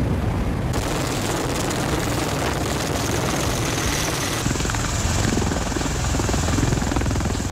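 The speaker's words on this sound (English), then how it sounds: "TiltRotor aircraft. A mix between a helicopter and a jet." A tiltrotor aircraft in flight, part helicopter and part jet, gives a loud, steady rotor roar with dense rumbling and thudding texture throughout, alone and unbroken.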